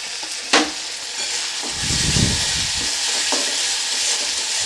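Spiced masala for an egg curry being sautéed and stirred in a pan, a steady broad sizzle with scraping spoon strokes and a sharp clink near the start, close and fairly loud with no voices.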